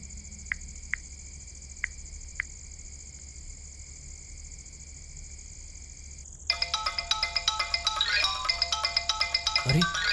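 An electronic phone ringtone plays a repeating melody, with a few faint taps before it swells into a louder, busier tune.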